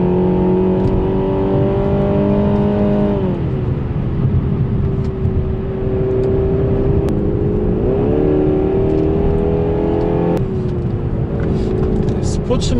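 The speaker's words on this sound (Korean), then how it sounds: "멀티센스 버튼을 2번 눌러서 스포츠 모드로 바꾸고요. 자, 일단 스포츠로 한번 달려보겠습니다." A Renault Samsung SM6 climbs a mountain road in sport mode, its engine droning steadily and loud, rising in pitch, dipping at a shift, then climbing again, with a voice talking over it.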